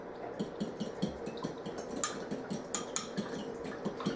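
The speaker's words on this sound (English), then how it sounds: "Just whisk it until it's mostly dissolved and add that to your pot. Now continue whisking" A whisk beats yogurt starter into warm milk in a crockpot, a brisk, steady rhythm of close metallic clinks and scrapes against the pot, with no talking.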